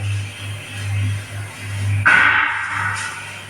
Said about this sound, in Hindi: देखिए ये आवाज़ इसके साथ सांभर की आ रही है।